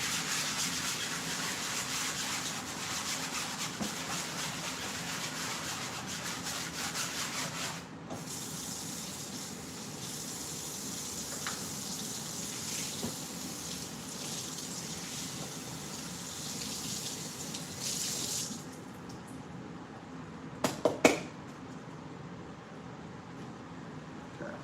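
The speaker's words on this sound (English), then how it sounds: "We are going to hit the cutting board with a little bit of soap." Steady scrubbing of a cutting board with soap and running water, a continuous rough rubbing wash that persists at moderate level, ending with a few sharp knocks near the close.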